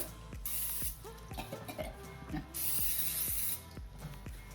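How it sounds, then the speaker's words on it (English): Two sharp bursts of aerosol cooking spray hissing close by into a baking dish, with soft ticking clicks from the can in between. "with some cooking spray up the sides too"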